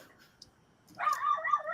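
A dog barks in a rapid, continuous run at moderate distance after a second of near silence, and the barking shows no sign of letting up.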